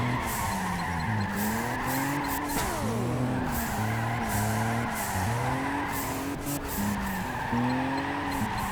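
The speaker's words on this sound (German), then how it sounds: "Ein schöner Drift von Wagen 2." Drifting car in the Juiced 2 racing game, its engine droning steadily with shifting pitch while tires squeal continuously through a long slide, loud and close throughout.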